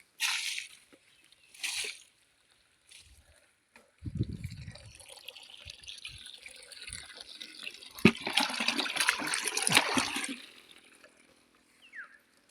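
Water splashes and pours steadily onto tomato plants and soil for several seconds, with a few brief spurts of spray before and some dripping after.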